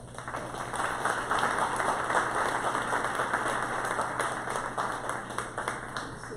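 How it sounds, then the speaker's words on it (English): Guests at a community Ramadan iftar dinner applaud steadily, a dense crowd of clapping hands sustained at even loudness throughout, over a faint steady hum. "we need to commend him and applaud him"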